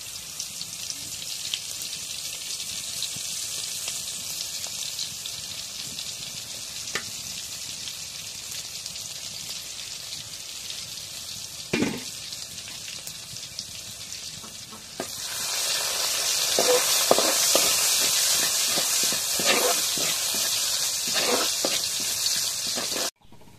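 Crushed garlic fries in a pan with a steady sizzle that swells louder partway through, broken by occasional scraping stir strokes and spattering pops.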